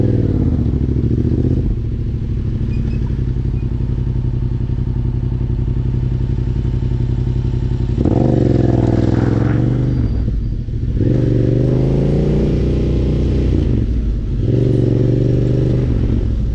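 Motorcycle fitted with a loud aftermarket exhaust, riding with a steady deep engine drone that swells into rising revs and throttle blips several times, close and loud throughout.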